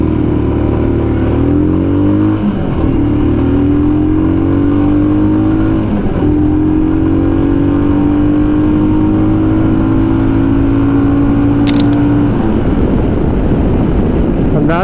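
A Royal Enfield Himalayan motorcycle fitted with a performance exhaust accelerates hard from 0 to 100 km/h, its loud engine note climbing in pitch through several gear changes with brief dips between them, close and continuous.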